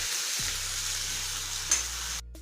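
Onions frying lightly in a pan for a rajma dish, a steady close sizzle with a faint stir or clink partway through, cutting off near the end.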